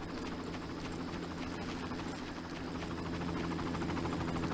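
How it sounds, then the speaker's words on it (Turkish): A helicopter in the video game Far Cry 1 thrums with a steady, faint rotor drone and buzz that continues throughout without speech. "Helikopter çok fena sıkıyor sana çünkü."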